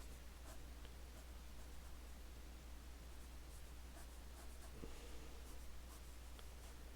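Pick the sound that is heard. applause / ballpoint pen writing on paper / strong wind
ballpoint pen writing on paper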